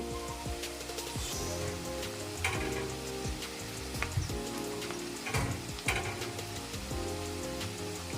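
Ghee goes into hot oil in a pan for a doi katla fish curry and sets off a steady, close crackling sizzle with scattered pops that runs continuously without talk.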